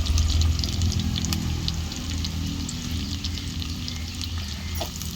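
Garlic and onion sauté in a pan for a Tamil fish curry, giving a steady close sizzle and frying crackle with faint stirring scrapes, unbroken throughout with no talk.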